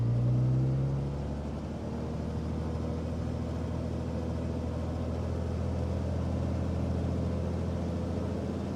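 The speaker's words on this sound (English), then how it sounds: "So we'll go ahead and bring up the throttle." Piston engine of a Cirrus SR22 in the simulator MSFS 2024 running up to 1700 RPM, a steady droning hum with a brief rise at the start, then settling into an even, continuous tone with no talk.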